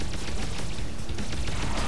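Dense, continuous rumble of explosions from the top-down shooter Alien Shooter, loud and busy throughout, with overlapping blasts and crackle filling the whole stretch without any voice.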